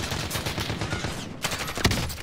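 Gunfire in a first-person shooter video game, a rapid burst of shots followed by a brief pause and a single sharp, louder crack near the end.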